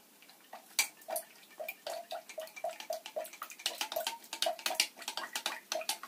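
A spoon stirs a homemade kelp moisture cream mixture in a bowl, making a steady run of soft, wet clicking and tapping strokes close up, with no talking.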